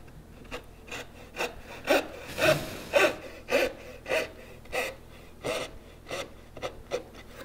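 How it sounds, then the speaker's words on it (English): A hand saw cuts a dovetail kerf in wood, a rhythmic series of close, crisp rasping strokes at a steady pace, heard alone without talk. "Set that kerf in there. Focus here on how I'm holding the saw."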